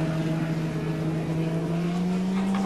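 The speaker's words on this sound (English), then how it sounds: "Gricey's car put its power down well" A 1989 touring race car powers out of the pits at Winton Raceway, its engine droning loud and steady with a slowly rising pitch as it accelerates, close and continuous with no talk.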